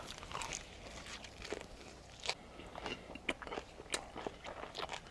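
Bossam lettuce wrap with garlic, radish and scallion being bitten and chewed up close, with a series of crisp crunchy bites and wet chewing, quiet and without talk.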